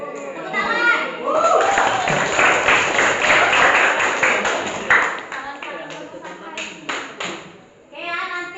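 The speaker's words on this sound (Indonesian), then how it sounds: "Tepuk tangan." A class of students claps for a group presentation, a dense burst of hand clapping that thins into scattered claps, with children's voices chattering over and around it.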